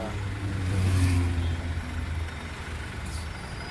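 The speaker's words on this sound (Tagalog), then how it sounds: "Traffic pa rin, nandito pa rin kami ngayon." Road traffic at a stoplight rumbles steadily, with heavy truck and bus engines idling and revving close by and a brief hiss of an air brake, no talking.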